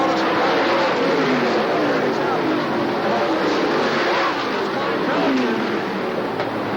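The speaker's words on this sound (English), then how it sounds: "Russ Brown has a tremendous pack of cars just ahead of him." A dense pack of race cars roaring around Oswego Speedway during the 1994 ISMA Supernationals, a continuous loud engine wash with a race commentator talking over it.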